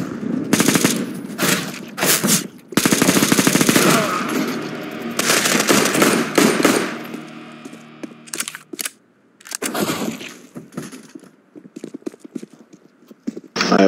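Rapid bursts of gunfire from the video game Counter-Strike: Global Offensive, loud and close, with dense volleys in the first half, then a short gap and further sharp shots.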